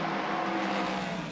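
Toyota number 8 endurance race car at the 2017 WEC Bahrain round, a brief loud high-revving engine roar, dense and sustained over about a second.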